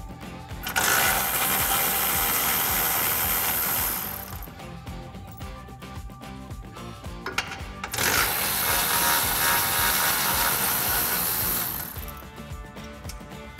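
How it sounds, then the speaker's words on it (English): A hand ratchet fitted with a 13mm socket clicks rapidly in two long bursts of about four seconds each, loosening bolts behind the differential on the cross member of a 2015-2017 Mustang GT, with a quieter pause between them. "Now we need to remove the two 13mm bolts from behind the differential that's attached to the cross member using our 13mm socket."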